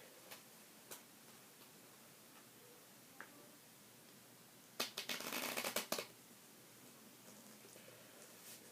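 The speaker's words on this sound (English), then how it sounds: "now we will shuffle these two piles together" A few faint clicks, then a short riffling burst of two piles of playing cards being shuffled together, close and quiet, followed by light rustle.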